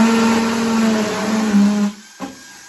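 Power drill boring a half-inch hole into a wall, a close steady motor whine that winds down abruptly near the end, followed by a brief clunk and quiet.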